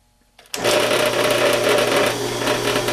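Circle cutter spinning into sheet metal to cut a lightening hole, a loud, steady high-pitched whining grind that starts abruptly after a brief quiet moment and holds continuously, with a slight dip in level near the end.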